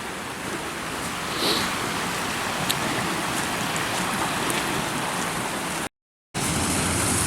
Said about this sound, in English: Oh, this waterfall.